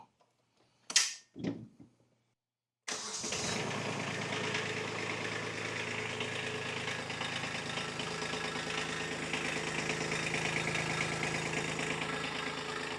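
A Kubota B2601 compact tractor's diesel engine turns over briefly, then catches and settles into a steady, close idle after a couple of short bursts and a pause.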